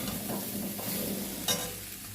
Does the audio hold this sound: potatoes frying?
yes